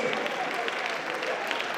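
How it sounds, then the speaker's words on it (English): An audience at a pharmacists' national conference in Nigeria applauding in a standing ovation, a dense, steady wash of clapping heard at a moderate distance in a large hall. "A round of applause, standing ovation for the Director General of NIPRIT"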